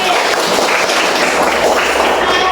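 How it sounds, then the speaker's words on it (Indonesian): A classroom of students applauds together in steady, dense clapping that holds at an even, fairly loud level for a couple of seconds, with no voices over it. "Tepuk tangan untuk Alif."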